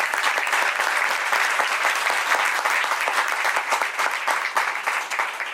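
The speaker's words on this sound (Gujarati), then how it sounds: "એટલે એકવાર હાથ ઊંચા કરી નાથ ભક્તને તાળીઓના નાદથી વધાવો બધા." Sustained audience applause at a Swaminarayan temple anniversary festival in Vadodara, a dense, steady wash of many hands clapping loudly and evenly throughout.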